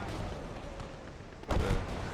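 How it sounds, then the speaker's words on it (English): Artillery barrage in the World War II video game Gates of Hell: Ostfront, a continuous low battlefield rumble with a heavier muffled blast rolling in near the end, no speech. "we're going to put another barrage onto the Achilles"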